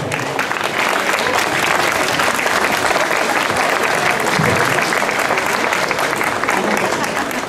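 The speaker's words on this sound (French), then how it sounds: "On peut les applaudir, regardez." A crowd at a gastronomy fair in Le Mée-sur-Seine applauds two chocolate sculptures, loud sustained clapping from many people with a hint of voices mixed in.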